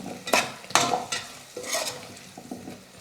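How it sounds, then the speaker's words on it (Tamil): Drumstick pieces are stirred and sautéed in hot oil in a pan for a home vegetarian lunch, producing several close scraping stirs over a soft, continuous sizzle. "முருங்கைக்காய் சேர்த்ததுக்கு அப்புறமா ஒரு 2 நிமிஷம் எண்ணெயிலே நல்லா வதக்கிக்கலாம்."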